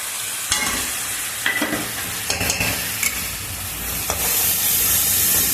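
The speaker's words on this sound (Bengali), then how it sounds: "আর যে শুকনো মশলাগুলো ছিল সেগুলো এবার দিয়ে দেবো।" Dry spices go into a spice masala frying in oil for a spicy dharos dish, giving a steady close sizzle and hiss broken by several scraping stirs and light clinks of a utensil against the pan, with no talking.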